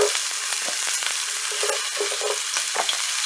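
Zucchini sizzles loudly in a hot frying pan, a steady close crackling hiss with small bursts of spatter and a few soft stirring sounds.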